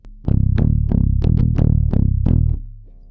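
Heavily distorted bass guitar hammers out a loud riff of about seven evenly spaced picked notes, each a punchy low attack with gritty overtones, cutting off into brief near-silence.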